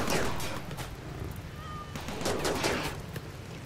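Minigun fire from mechanoids in RimWorld crackles as a dense, continuous rattle of rapid shots, steady and fairly loud throughout with no pauses, distant-sounding and mixed with other game noise.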